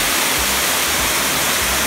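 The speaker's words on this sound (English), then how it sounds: "So we made it to the waterfall." A big waterfall in a Costa Rica rainforest near Jaco roars as a dense, constant rush of falling water, loud and close, filling the short moment without a break.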